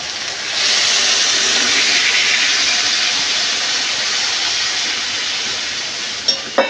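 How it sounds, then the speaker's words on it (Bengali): Water poured into a hot pan of rohu fish curry with potato and drumstick stems, a sustained loud sizzling hiss that slowly eases, followed by a couple of light metallic clinks at the end. "এবার পরিমাণ মতো জল দিয়ে দেব।"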